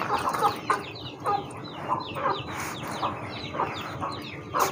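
Many chicks cluck and chirp together in a continuous, busy chorus, fairly close and moderately loud.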